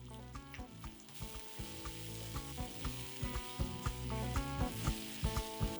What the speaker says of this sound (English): to slightly toast the spices and sweat the onions